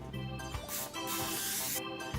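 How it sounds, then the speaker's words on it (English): Vegetable cooking spray hisses from a can onto kitchen foil in two close bursts, the second longer and steady, against a quiet indoor background with faint tonal sound. "Next, Mommy puts vegetable spray on some foil."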